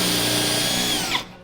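A power drill boring through metal on an off-road vehicle to fit a pin, a loud steady whirring grind heard up close, which cuts off abruptly near the end.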